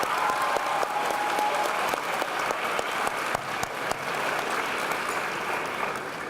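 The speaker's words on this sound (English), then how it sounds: "One more round of applause for our music department." Sustained audience applause at a school dedication ceremony honoring the music department, dense steady clapping from a large crowd filling the room for several seconds with no talk over it.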